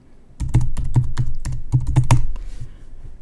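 Fast typing on a computer keyboard, a quick, uneven run of crisp, close key clicks lasting a couple of seconds before stopping, with no talking.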